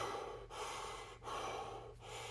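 A character in the game Lucy Quest breathing heavily, three loud, close, rushing breaths in steady succession, each separated by a brief pause, with no talk.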